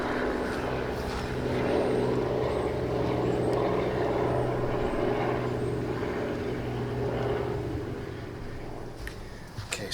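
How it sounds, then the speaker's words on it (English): An Enya 53-4C four-stroke model airplane engine runs on SW fuel with its rotation reversed, holding a loud, steady buzzing drone for the full stretch, close by and with no talk over it. "let's just put this engine in run mode"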